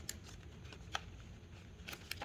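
Kid scissors snipping through paper while an envelope is folded by hand, giving a few quiet, scattered snips and rustles at close range.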